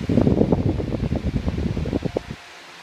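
A 2012 Lasko 1844 stand fan runs at medium speed with a close, loud, breathy rush of air and flutter, steady for about two seconds before dropping away to near quiet.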